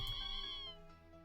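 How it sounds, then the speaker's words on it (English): A cat meows once in the video game Desktop Survivors 98, a single clear, drawn-out tonal call that slides downward and fades, heard alone without talking. "Hey, cat."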